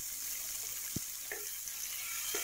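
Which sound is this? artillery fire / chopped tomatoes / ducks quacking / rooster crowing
chopped tomatoes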